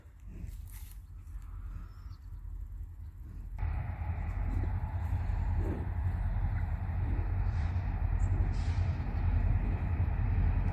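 A coal freight train rolls past with a heavy, continuous rumble and clatter that swells louder partway through and keeps going, with no talking.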